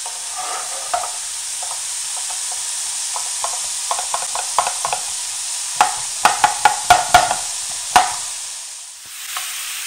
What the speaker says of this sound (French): Et je fais revenir les 2 poêles jusqu'à ce qu'il n'y ait plus d'eau